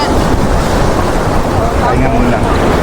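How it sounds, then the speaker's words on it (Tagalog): Strong ocean waves at a beach in San Felipe, Zambales, heard as a loud, continuous wash of surf mixed with heavy wind buffeting the microphone, steady and close throughout. "Lakas ng alon dito"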